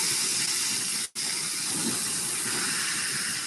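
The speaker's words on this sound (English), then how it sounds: "in goes our chicken. You hear that sizzle?" Loud, steady hissing sizzle of chicken frying in a hot pan, briefly cut off once, then continuing evenly; no talking.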